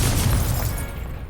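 A Confringo spell explodes in a wizard video game, a single loud, close blast with a heavy low boom and a shattering crackle that fades within about a second.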